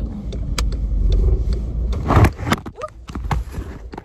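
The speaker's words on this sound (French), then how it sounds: "Il y a une voiture derrière moi." A car passes close behind a person outdoors, its engine and tyre rumble rising and falling over about four seconds, mixed with clicks, knocks and handling noise near the microphone.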